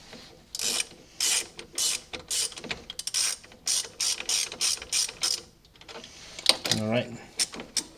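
Ratchet snugging bolts on the front shocks of a C5 Corvette, a rapid series of close, sharp clicking bursts in several spurts, with a brief voice near the end.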